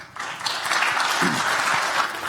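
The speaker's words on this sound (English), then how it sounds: "We get another round of applause." An audience at a health IT tech forum claps after a panel, a brief, dense burst of applause that swells quickly and holds steady for a couple of seconds.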